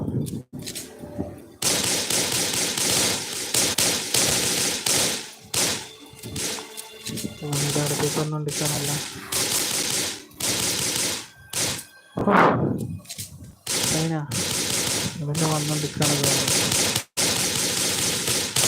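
Gunfire in the video game Darkest Day, loud rapid bursts of automatic shots with brief pauses between volleys, close and dense throughout.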